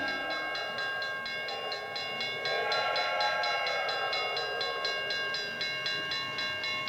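A train sound effect plays from a phonograph record, giving a rhythmic chugging clatter beneath a sustained whistle-like tone, at moderate loudness with no talking.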